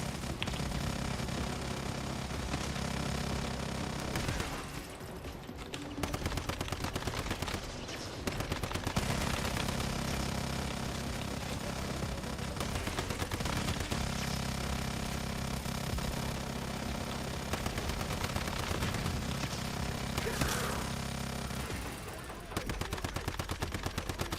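The Shadow Gatling gun in Once Human fires long, continuous streams of rapid shots at steady volume. Short breaks split the streams before the heavy rattling fire starts again.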